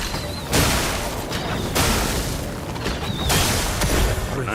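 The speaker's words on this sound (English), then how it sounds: "Sakapatak explosion." The Sakapatak explosion attack in the video game Expedition 33 sets off a series of heavy, booming blasts, about four loud bursts in quick succession over a dense roar, with faint whistling tones in between.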